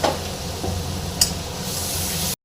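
Spice paste hissing in a pan after a splash of water goes in, a bright steady sizzle with a brief louder burst partway through before it cuts off.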